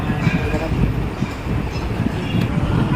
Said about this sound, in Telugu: ఫైనల్లీ సికింద్రాబాద్ స్టేషన్ నుంచి అయితే ట్రైన్